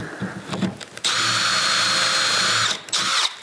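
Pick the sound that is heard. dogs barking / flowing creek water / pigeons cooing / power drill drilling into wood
power drill drilling into wood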